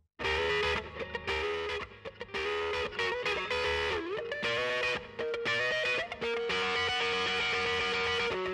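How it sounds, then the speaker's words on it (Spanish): Heavily distorted music produced by the distortion setting of a McDSP 6050 channel strip plugin, a loud, continuous gritty mix of sustained tones and chords with brief dips between phrases. "vamos a ver algo así más de distorsión"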